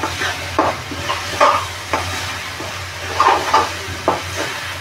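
Oyster masala is stirred and sautéed in oil in a pan, soft sizzling hiss broken by repeated scraping stirs at an irregular rhythm, close up with no talk.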